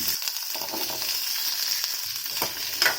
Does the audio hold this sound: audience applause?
no